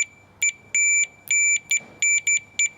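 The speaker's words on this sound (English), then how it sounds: "You can see here that if I touch these two, it starts to beep." A multimeter on continuity test sounds a shrill electronic beep in a string of short and longer bursts as its probes touch during repair of an FPV video transmitter's SMA connector, loud and close.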